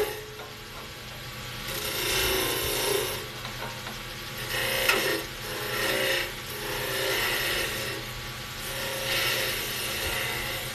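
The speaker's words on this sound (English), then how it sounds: "Now I'm just planing that down a little bit." Skew chisel planing wood on a lathe during a live demonstration, giving a continuous close, loud rasping shear over the hum of the spinning lathe. The scraping swells and eases in a slow rhythm of repeated passes, with no voice.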